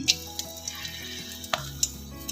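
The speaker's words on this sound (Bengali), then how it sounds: "প্রথমে আমি গোটা গরম মশলা দিয়ে দিচ্ছি" Whole garam masala drops into hot oil left from frying kofta, giving a faint, quiet sizzle with scattered sharp pops and crackles.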